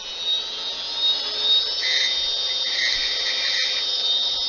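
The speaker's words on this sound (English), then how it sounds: "I'm going to turn the speed back up. I'm going to come in with my skew and just get rid of that paint." A wood lathe turning a small wooden snowman whines steadily at high speed while a skew chisel scrapes paint from the spinning piece, a continuous close mechanical drone with faint cutting texture and no voices.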